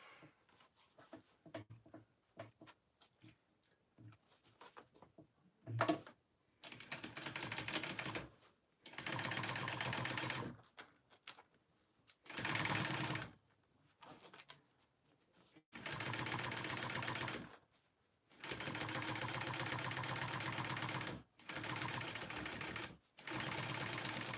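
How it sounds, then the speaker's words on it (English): A sewing machine top stitching a bag, running in long steady bursts of several seconds each with short pauses between, close and clear. "All right, and then you take that up and you top stitch that."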